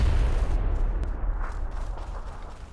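Video game grenade explosions, a heavy rumbling boom at the start that fades into a muffled, decaying roar with faint distant thumps, no voices.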